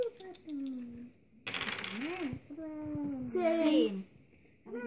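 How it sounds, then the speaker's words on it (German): Two dice rolled during a family game of the board game Spookies clatter briefly in a couple of quick bursts, heard beneath steady German conversation between players. "Und ich würfel mit 2 Stück würfeln"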